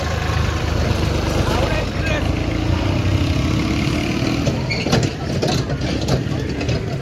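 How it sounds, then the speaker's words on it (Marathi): A tractor approaches from behind on a rural road, its heavy engine a continuous low rumble under ongoing conversation, with a few sharper knocks near the end. "ट्रॅक्टर आलं मागून."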